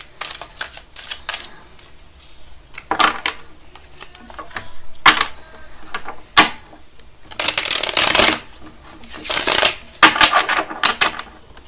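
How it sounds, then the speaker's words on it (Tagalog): A deck of playing cards is shuffled up close in repeated bursts of riffling and crisp snapping, separated by short pauses and a few sharp taps. "Balasahin muna po natin."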